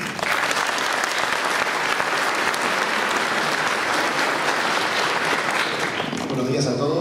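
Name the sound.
audience applause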